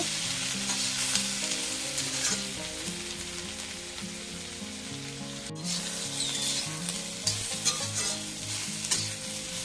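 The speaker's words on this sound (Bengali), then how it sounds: "এটা আমি আর ঢাকা দেবো না একটু ভেজে নেব" Potato, eggplant and peas fry in an uncovered pan, giving a continuous close sizzle with spoon stirring and scraping, while music plays steadily underneath and nobody speaks.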